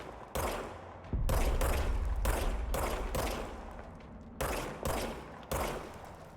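Gunshots ring out in Control in sharp, loud bursts, spaced irregularly with short gaps between them and no talk.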